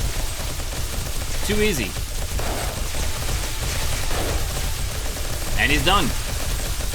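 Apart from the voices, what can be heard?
gunfire unloading bullets into a zombie in 7 Days To Die video game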